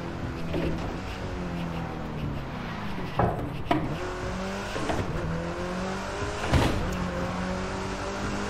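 Car in The Crew 2 accelerating with nitro, engine note climbing and shifting through repeated rising sweeps, close and steady, with a few sharp knocks along the way.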